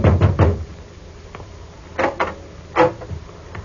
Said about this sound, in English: I knocked at the door.